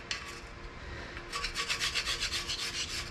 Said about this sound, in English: Using my Mortke Super Scraper.